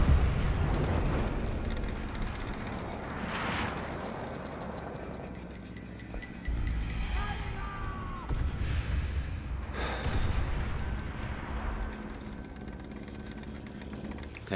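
Heavy tank blasts and rumbling booms sound in a Call of Duty: World at War team deathmatch on the Downfall map, with several loud bursts spread across a dense, roaring battlefield din.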